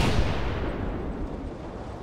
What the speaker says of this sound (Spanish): Eso es la artillería, creo, disparando